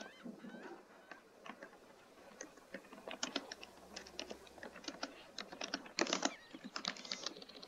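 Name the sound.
typing on a computer keyboard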